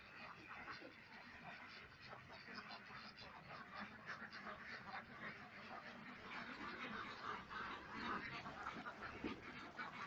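A flock of white ducks on a breeding farm in Narayanganj quacking continuously, a dense, overlapping chatter of calls that holds steady throughout.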